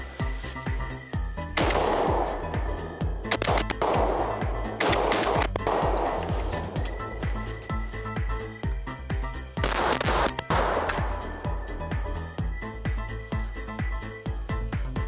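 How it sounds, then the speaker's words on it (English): A Beretta 1301 Tactical Gen 2 shotgun fires buckshot into an old cabinet outdoors, delivering a fast string of loud booming shots in quick bursts with ringing echoes between them, close and without talking. "Buckshot versus this old cabinet"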